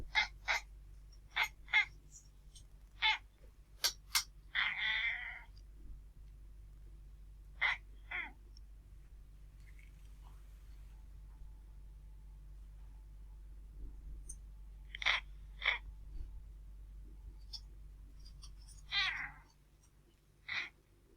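An indoor cat chirps during a darts game, giving short, sharp chirps in irregular clusters with long quiet gaps between them, heard alone over a low steady background hum.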